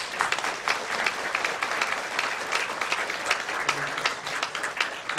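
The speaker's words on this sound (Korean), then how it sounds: "우리 큰 박수로 축하해 주시기 바랍니다" Sustained applause from a church congregation celebrating an honorary ordination at a 77th anniversary service, a steady, moderately distant wash of many hands clapping at once.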